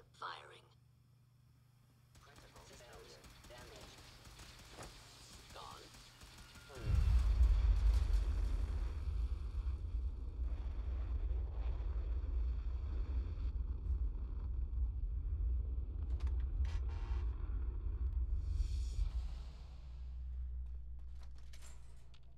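A rocket-style engine test firing in Fallout 4 bursts into a loud, deep, continuous rumble that roars steadily for about twelve seconds before easing off, after a quiet stretch with faint background sound.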